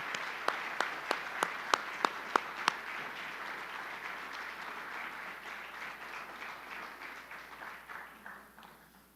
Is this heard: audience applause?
yes